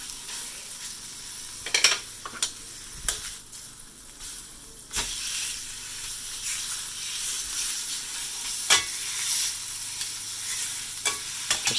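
Steak sears with garlic in a hot frying pan, giving a steady close sizzle and hiss throughout, broken by a few sharp spits and pops.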